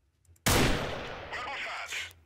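Rebel gunfire in Freeman: Guerrilla Warfare, a sudden loud, close blast of shots followed by a rattling tail and a second quieter burst near the end.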